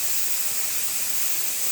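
A Power Cooker LX electric pressure cooker releasing steam after cooking chili with beef and red kidney beans, a loud, steady, close hiss that holds constant throughout with no pauses.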